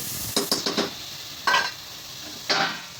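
A spoon stirring goat trotters with turmeric in a bowl, a few short scraping and clinking strokes in a quick cluster, then two more isolated stirs, close and fairly soft.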